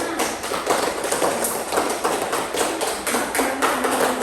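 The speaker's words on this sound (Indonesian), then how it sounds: "Tepuk tangan semuanya." A whole class of students claps hands together during a school religious-education lesson, a dense, steady patter of applause with many overlapping claps lasting several seconds.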